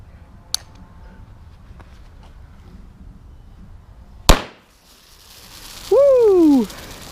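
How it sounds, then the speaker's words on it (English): A flare fired at a person outdoors, with a sharp pop, then a loud burst followed by a fizzing tail and quiet, and finally a rising-falling whooping cry. "Funny man volunteered to get shot by a flare."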